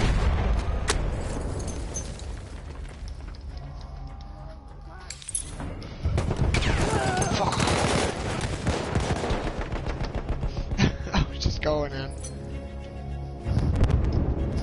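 Loud, dense gunfire from the video game Halo: Reach: rapid bursts of automatic fire and heavy blasts pile up almost without pause, with a few brief lulls between volleys.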